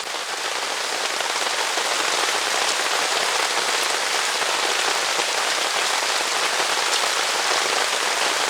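Heavy rain pours down steadily outdoors at a camper trailer build site, a dense, unbroken hiss of drops hitting surfaces throughout, with no voices.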